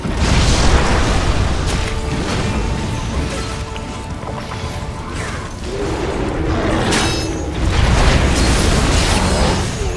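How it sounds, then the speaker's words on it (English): Booming cannon blasts and crashing impacts in the video game Nioh, loud repeated bursts over a dense rumble of battle noise through the whole stretch, with no talk. "Ooh, that cannon almost got me."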